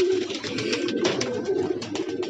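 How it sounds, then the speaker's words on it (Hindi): Soft, repeated cooing of several pigeons being released from their coop, steady and close, with faint fluttering and no talking. "तो ये सब कबूतर बाहर आ रहे हैं।"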